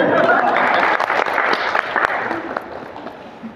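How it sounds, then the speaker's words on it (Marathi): Applause from an audience at a Marathi Buddhist talk, dense clapping that is loudest at the start and gradually thins and fades, with some voice underneath. "टाळ्या वाजवा यांच्याबद्दल"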